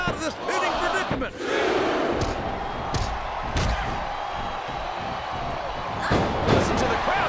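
A virtual arena crowd roars during a WWE SmackDown women's wrestling match in the video game, loud sustained cheering mixed with impact slams and commentators talking over it.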